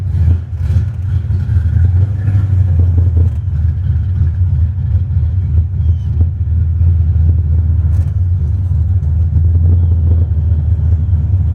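A car with a big cam and manual gearbox idles with a loud, lumpy low rumble, the uneven cam chop pulsing steadily up close with a few light blips, no talking.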